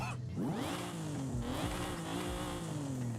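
Supercharged VQ engine of a 500 HP Nissan Fairlady Z drift build in Forza Horizon 5 revs up sharply, then holds a steady, loud, sustained drone with small wavering pitch.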